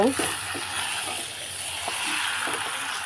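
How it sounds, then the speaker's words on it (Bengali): Potatoes are being fried and stirred into a spiced mutton kosha, giving a continuous close sizzle broken by several soft scrapes of a spatula against the pan, with no talk. "দেখো কষার মধ্যে আমি এবার আলুগুলো দিয়ে দিচ্ছি। আলুগুলো দিয়ে একটু কষে নেব"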